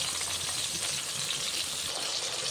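Ground mustard paste mixed with green chillies hits a hot pan while cooking a Bengali vegetable stem chorchori, giving a continuous, close, hissing sizzle with no talking.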